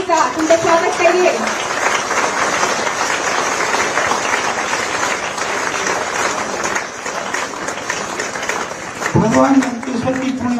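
Loud, sustained applause from a crowd at an inter college building inauguration event, dense clapping throughout, with voices and some musical tones at the start and near the end.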